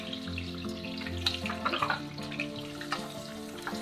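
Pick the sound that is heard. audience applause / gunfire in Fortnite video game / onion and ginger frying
onion and ginger frying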